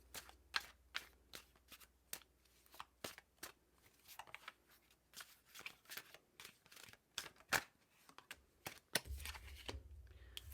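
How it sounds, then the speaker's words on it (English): Cards are shuffled and snapped in quick irregular bursts, crisp close-up riffles and taps, quiet and alone, with a low hum near the end. "as I was shuffling those cards"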